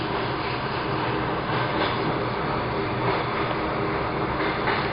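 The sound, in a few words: Russian suburban electric train running, heard from inside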